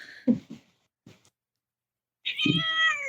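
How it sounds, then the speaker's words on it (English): A cat gives several short, close meows, then goes quiet, then lets out a longer, drawn-out, agitated yowl. "she was meowing"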